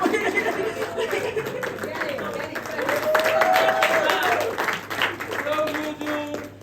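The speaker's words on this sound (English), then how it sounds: "Please, a round of applause for Judy Aldo and Captain Gengsi." Applause at a film trailer launch event, dense clapping from a crowd mixed with chatter and a little laughter, with voices calling out over the clapping and a long shout in the middle.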